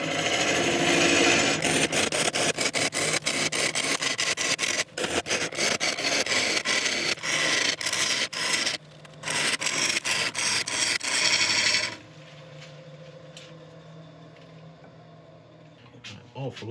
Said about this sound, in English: Awful lot of chattering going on.